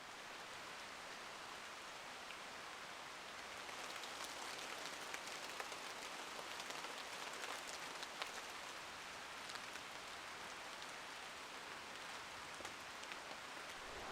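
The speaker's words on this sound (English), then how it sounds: "it's starting to rain now" Steady rain falls on a mountain creek campsite, a dense even patter that holds from start to finish with no voices over it.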